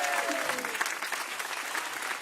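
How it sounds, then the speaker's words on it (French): A television game-show studio audience applauding, dense sustained clapping filling the room, fairly loud, with a voice briefly heard over it near the start. "Applaudissements, s'il vous plaît"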